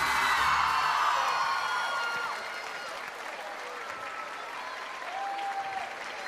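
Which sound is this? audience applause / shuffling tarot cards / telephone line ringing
audience applause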